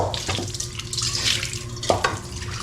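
Water runs steadily from a tap into a basin at home, a continuous close splashing stream with slight changes in flow and no talking.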